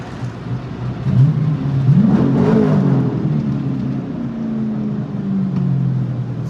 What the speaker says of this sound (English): Let's give them one more rev inside of the